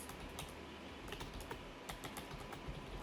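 Quick, light typing on a computer keyboard, irregular soft clicks close up and quiet, with no voices.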